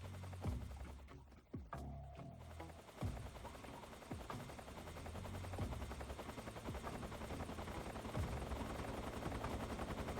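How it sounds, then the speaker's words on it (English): Helicopters in the video game Metal Gear Solid 3 produce a continuous whirring rotor drone, punctuated by several sharp gunshot-like cracks, sustained and fairly loud with no talking. "Why does it sound like there's like 3 helicopters here?"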